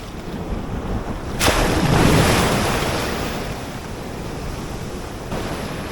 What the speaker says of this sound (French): Vous avez vu la puissance de la dernière vague là.